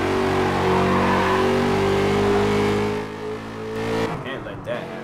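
Race cars in Gear Club Unlimited roar with steady high engine drones and shifting pitch, then tires squeal and skid toward the end as the engine note drops away, with a person talking over the loud racing.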